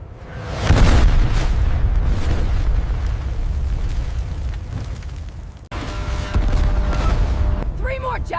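Javelin anti-tank missiles launching in quick succession against enemy tanks and armored vehicles, heard as a sustained booming roar of blasts and rumble, loud and continuous, with a sharp break partway and crackling bursts afterward.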